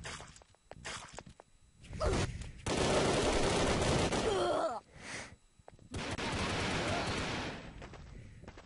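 Rapid bursts of automatic gunfire in the video game Brick-Force, loud sustained volleys separated by brief pauses, with faint game sounds between.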